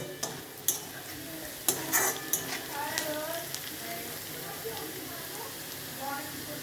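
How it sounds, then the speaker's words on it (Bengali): Potatoes fry until crisp in a pan, giving a steady close sizzle with occasional sharp ticks and clinks of stirring, while someone talks over it. "আলুটা বেশ ভালো করে ভেজে নেবে, একদম মজমজ করে আলুটা ভেজে নেবে"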